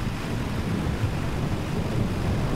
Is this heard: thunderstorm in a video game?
yes